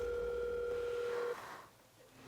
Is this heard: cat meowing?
no